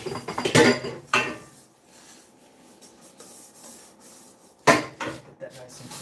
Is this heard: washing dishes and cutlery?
yes